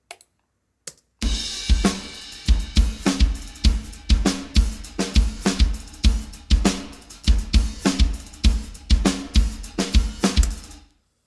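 A drum kit, recorded with a single room mic, plays a steady groove with punchy kick and snare hits, roomy and spacious, after a couple of isolated opening hits.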